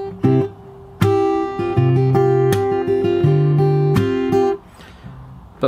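Fingerstyle acoustic guitar playing the repeated second part of the chorus of a song, relaxed plucked chords and bass notes ringing close and clear, alone before stopping into quiet.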